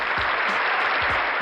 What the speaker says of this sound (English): We applaud you for it.